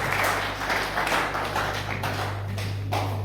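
An assembly in a hall applauding together, a dense, steady wash of many hands clapping at once that continues throughout, with a low constant hum beneath it.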